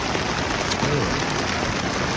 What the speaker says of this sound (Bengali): আর প্রচণ্ড বৃষ্টি বন্ধুরা, পুরো বৃষ্টি পড়ছে